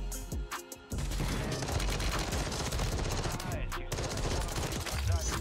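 Gunfire in the video game Warzone on Rebirth Island, a dense continuous burst of automatic shots lasting several seconds after a brief quieter opening, loud and up close.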